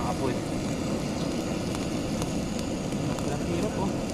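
A wood cooking fire burns outdoors on dry firewood, giving a steady, close, dense rush of crackling and roaring that continues without a break.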